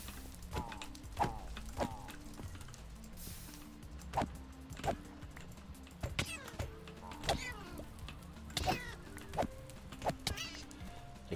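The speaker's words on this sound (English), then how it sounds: "The kitty slippers has a bit of an annoying sound." Repeated synthetic cat meows from kitty slippers in a Minecraft ATM9 modpack, short mewing calls every second or so alongside soft game thuds and clicks, moderately quiet.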